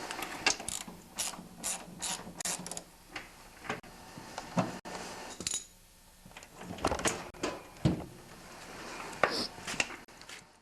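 A ratchet wrench clicks in quick bursts while a bolt is backed out of a snowblower frame to split the housing, with scattered metallic taps and clunks in between, close and fairly quiet.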